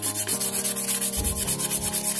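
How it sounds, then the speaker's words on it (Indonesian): Steady rhythmic rubbing of sandpaper on a sugarcane-stalk fishing float, back-and-forth strokes repeating evenly and close by, with a low tonal hum running underneath. "Ini pakai amplas yang ada saja biar ntar rapi"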